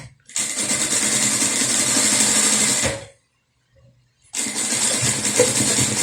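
Sewing machine stitching a fabric bucket bag: a close, steady whir for about three seconds, a brief silence, then the motor runs again.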